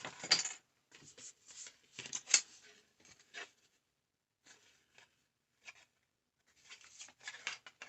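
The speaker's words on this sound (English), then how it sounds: "My scissors and this cardboard." Scissors cut through cardboard in a few scattered, faint crisp snips and rustles separated by quiet gaps, close to the listener.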